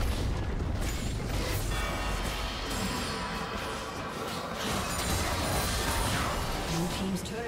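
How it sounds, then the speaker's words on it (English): A turret collapsing in League of Legends during a mid-lane Anivia versus Zed match, a dense, rumbling boom-and-crash sustained across the whole span over busy game noise, loud and close. "Blue team's turret has been destroyed."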